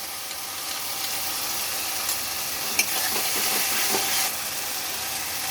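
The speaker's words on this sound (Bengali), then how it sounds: "এবার আমি দিয়ে দেব জল ঝরানো টক দই" Strained yogurt goes into a frying spice paste for egg curry. It sizzles and hisses steadily in the hot oil, with a few clinks of stirring near the pan and no one talking.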